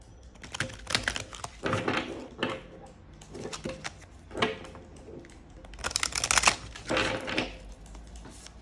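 An oracle card deck being shuffled by hand, several bursts of crisp riffling and flicking card sounds separated by short pauses, close and alone.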